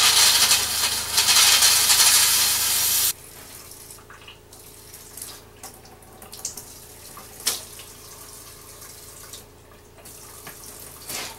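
Hot water gushing from a tap in an RV during tank sanitizing, a loud steady rush for about three seconds, then it stops, leaving quiet drips and small clunks.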